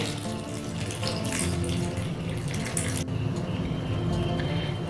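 Running tap water splashes steadily over jujube fruits being washed in clean water in a sink, a continuous close rushing without pause.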